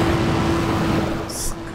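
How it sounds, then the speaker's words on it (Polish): A Nissan GT-R SpecV accelerates in the racing game Need for Speed World, its engine a dense, steady, loud roar with a constant whine, sustained throughout the short stretch. "No jak widać, samochód bardzo fajnie przyspiesza."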